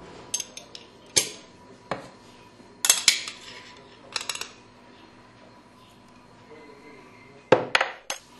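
Kitchen clinks and clatters as eggs are whisked with a fork in a bowl, arriving as sharp, irregular bursts of metal-on-ceramic scraping separated by quiet pauses.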